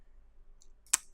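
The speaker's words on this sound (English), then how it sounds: "if I go full screen by pressing F on the keyboard a couple of times" A single sharp key click from pressing the F key on a computer keyboard sounds close and brief, after a fainter tick, in an otherwise quiet room.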